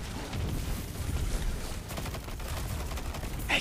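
Grenade launcher fire in Destiny 2, a dense run of booming explosive blasts in a chaotic firefight, loud and continuous with no clear gaps between shots.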